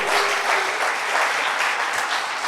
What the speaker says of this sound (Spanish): Pero un aplauso al Señor,